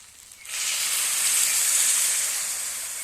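Water poured into a pot of cooking masoor lentils and banana flower bursts into a loud, steady hiss that rises sharply after half a second and holds strong to the end, with no talking.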